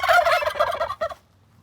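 A turkey's rapid, rattling gobble, loud and close, ending abruptly and followed by a short quiet stretch.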